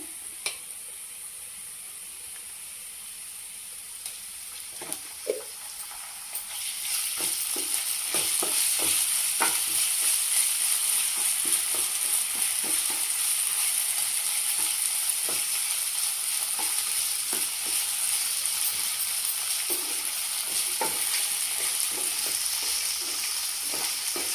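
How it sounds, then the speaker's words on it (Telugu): Ginger garlic paste frying among onions in a pan gives a continuous sizzle that swells after a quieter start, broken by regular scraping strokes of a stirring spoon. "అల్లం వెల్లుల్లి కూడా వేగిందండి మంచిగా ఉల్లిపాయలలో"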